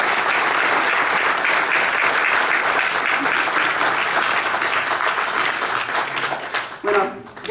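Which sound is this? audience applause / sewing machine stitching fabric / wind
audience applause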